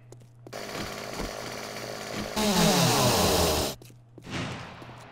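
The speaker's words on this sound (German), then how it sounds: "Wie laut dieses Kettensägen." A chainsaw in the survival game 7 Days to Die roars loud and steady for several seconds, swelling harsher midway before cutting off, with no voices over it.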